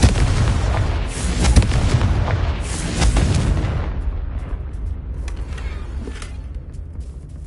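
Loud booming blasts and crackling impacts from explosive spells Bombarda and Confringo in a Hogwarts wizarding video game, dense and rumbling, then tapering into a softer sustained roar with scattered pops.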